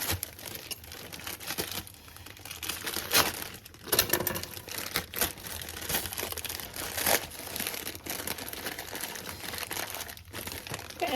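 Wrapped mini candies rustle and crinkle in their plastic wrappers, a close, continuous crackling with louder bursts as the pieces are handled and moved.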